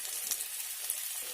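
Chopped onions sizzle and fry in hot oil in a wok, a steady close hiss of frying with no talk over it.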